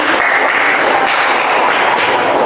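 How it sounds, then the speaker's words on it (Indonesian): A class claps for a student during a geography lesson, with loud, continuous close-up applause throughout and no voices. "Tepuk tangan untuk kakak."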